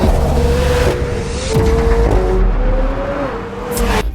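McLaren 750S engine and exhaust, a loud, close, steady drone with the pitch rising and dipping through gear changes, accompanied by strong road and wind rumble.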